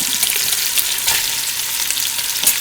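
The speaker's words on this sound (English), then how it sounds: "we're going to take the pepper and onion, throw those right in" Pepper and onion sizzle steadily in a hot pan with browned sausage for an Italian zucchini dish, a dense continuous frying hiss with faint stirring clicks, close and without talk.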